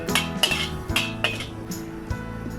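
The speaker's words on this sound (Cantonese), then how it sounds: "將啲薑蓉放落個油鑊嗰度爆一爆佢。" Minced ginger is stir-fried over low heat in an oiled wok, with a metal spatula striking and scraping the pan about every half second. The clangs are close and fairly loud over a low background.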